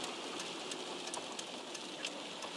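Rain falls steadily in Aybastı, Turkey, making a soft, even hiss with scattered sharper drop taps, faint and continuous with no voices.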